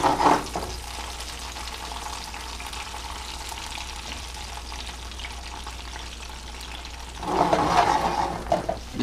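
Soaked chilies and paprika in oil in a pan over very low heat give off a steady, soft sizzle, and a louder burst of frying and stirring follows near the end.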